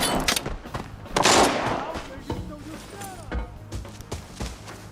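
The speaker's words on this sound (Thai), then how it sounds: "เสียงปืนอยู่ไกลมากเลยครับ" Scattered gunshots crack faintly in the distance during a game of Arena Breakout played on a phone, with a person talking over them.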